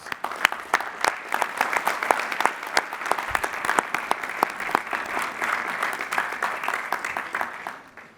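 Hearty audience applause for new Doctors of Philosophy at Lehigh University's spring commencement, a dense, lively wash of clapping with sharp individual claps standing out, continuous for several seconds.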